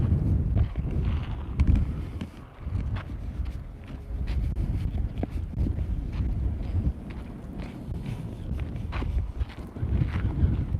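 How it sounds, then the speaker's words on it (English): Steady low rumble of wind buffeting a microphone outdoors, continuous and loud with gusty fluctuations throughout. "It's a little windy right here."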